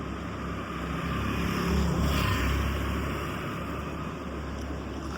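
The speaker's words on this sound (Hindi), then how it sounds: "तो अपनी गाड़ी आ रही है" A car approaching on a mountain road near Uttarkashi by the Bhagirathi, its engine a steady rumbling drone that swells to a peak around the middle and then holds on, with no talk over it.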